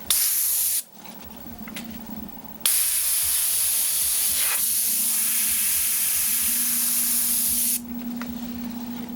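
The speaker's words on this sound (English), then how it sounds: "Just simply spray over top of it, get the star itself, then get right up close, spray it, and then just pull it back." An airbrush sprays paint in long continuous hissing bursts with short pauses between passes, close and loud, the airflow cutting on and off.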